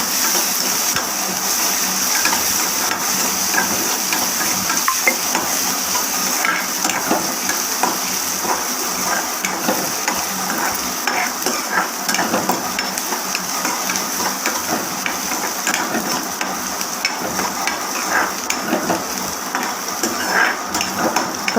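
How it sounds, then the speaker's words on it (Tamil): Chopped onion sautés in a pan, giving a continuous loud sizzle and hiss with scattered light stirring clicks throughout. "இப்போ இதில் ஒரு வெங்காயத்தை நறுக்கி வச்சதை போட்டுக்கோங்க. நல்லா வதக்கிக்கோங்க."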